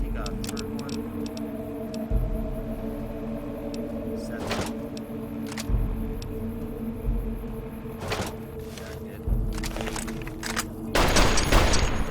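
Gunfire from an enemy in Fallout New Vegas Old World Blues: bursts of shots and sharp cracks spread across the stretch, some clustered and loud, over a steady game ambience.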